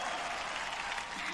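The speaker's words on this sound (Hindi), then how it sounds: "बजाओ ताली" A studio audience at a comedy show applauds, a short burst of steady, dense clapping at moderate loudness.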